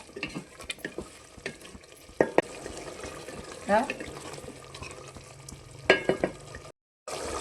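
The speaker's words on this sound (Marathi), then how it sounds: "भाजीला उकळी आलेली आहे," Chickpea curry (chhole masala) bubbles in a pan with a steady simmering hiss broken by spoon clinks and stirring scrapes, close by, and a short silent gap near the end.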